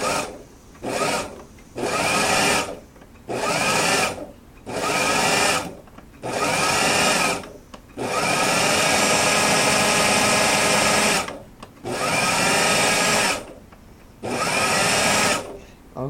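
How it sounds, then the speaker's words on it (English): A food processor pulses cracker dough in a quick series of loud, close bursts, each a roaring whir separated by short pauses, with one longer run in the middle. "I'm going to take this over to my food processor, and I'm going to give it a few pulses to mix it."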